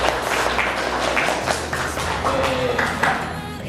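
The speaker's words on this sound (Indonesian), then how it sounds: "beri tepuk tangan untuk kalian semua." Students in a classroom clap their hands in a steady, fairly loud stretch of mixed applause, the taps close and overlapping, with little else over it.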